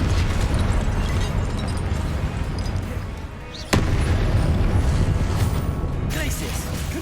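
Spell explosions in Hogwarts Legacy, a dense run of booming blasts and bursts under continuous game noise, with one sharp crack standing out near the middle; a voice speaks over the combat.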